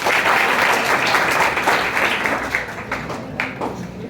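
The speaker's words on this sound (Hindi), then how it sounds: "एक बार तालियां" Audience applause at a student prize distribution honouring the 2023 toppers: a dense, sustained wash of many hands clapping, loud and steady throughout, easing slightly toward the end.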